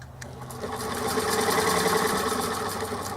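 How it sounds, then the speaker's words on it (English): A 1925 Singer Model 128 electric sewing machine running steadily, its motor giving a close, continuous mechanical whir with a rapid stitching chatter that swells up and holds. "That's your antique Singer sewing machine."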